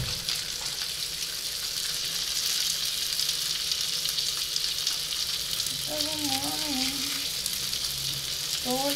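Sausages fry in a pan at breakfast time, a steady close crackling sizzle running throughout, with faint voices and a brief high squeak over it.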